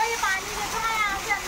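A waterfall beside a Mahadev statue at a temple site gives a steady, loud rush of falling water throughout, with a voice speaking over it.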